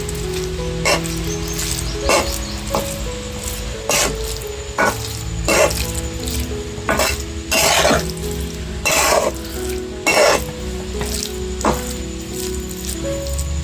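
A turmeric pickle being stirred and mixed with fresh lemon juice, giving repeated wet scraping and stirring knocks at an uneven rhythm, close and fairly loud with no talking.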